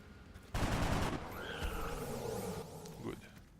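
A burst of rapid gunfire from XCOM: Enemy Unknown crackles loudly for about half a second, followed by a humming, warbling electronic tone and softer game effects that fade out.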